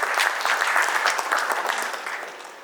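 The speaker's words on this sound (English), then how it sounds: "A big round of applause for Kailash Bhai." A crowd at an industry event in Dubai bursts into steady applause, dense clapping sustained throughout and slowly tapering toward the end.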